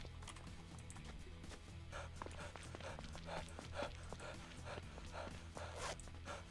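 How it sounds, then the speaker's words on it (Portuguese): In a video game, a pack of dogs barks over and over in a busy, quiet mix of sharp yelps, layered above a low steady hum and scattered clicking sounds. "E a cachorrada bem louca."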